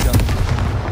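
A Confringo spell blast in Hogwarts Legacy, a loud booming burst with rumbling low-end thuds and crackle, dense and close for under a second.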